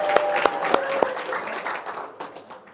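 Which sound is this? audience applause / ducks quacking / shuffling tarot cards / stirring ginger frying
audience applause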